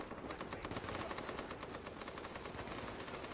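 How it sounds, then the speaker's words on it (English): Rapid automatic gunfire in The Division video game, a fast even stream of soft, popping shots like a paintball gun, sustained and fairly faint. "Now you shooting a paintball gun?"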